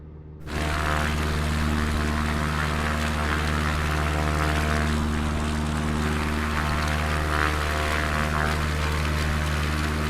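Small propeller airplane engine in a flight simulator game drones steadily and loudly after a quick start, a constant tonal hum with layered harmonics and no talking.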